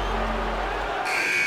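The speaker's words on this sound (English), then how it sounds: "And that's the final buzzer." The final buzzer of a game in NBA 2K21 starts about a second in as a sharp, loud electronic tone over low crowd and arena noise.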